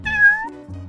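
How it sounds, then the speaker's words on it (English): A cat meows in a coding video game while rescuing a purple cat, one clear, near meow with a rising then falling tone, ending in a lower game tone. "We have to rescue the purple cat."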